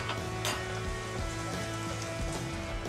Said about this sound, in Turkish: Pembeleşene kadar kavuruyorum. Bir dolu yemek kaşığı domates salçası ilave ediyorum.